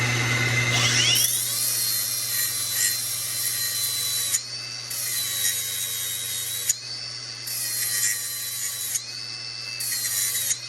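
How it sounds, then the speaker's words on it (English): A grinder dresses a metal blade during hydraulics repair work on a 4x4 Case 155 articulated tractor, giving a loud, high steady whine in several long passes with brief dips between them, and no talking. "So use a grinder on the blade."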